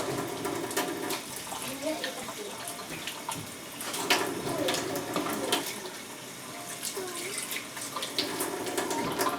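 Tap water runs steadily into a sink while hands are washed during kitchen food prep, splashing close by with brief faint voice sounds over it.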